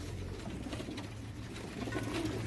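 Pigeons coo softly in a low, repeated murmur, faint and close, against a light background hiss.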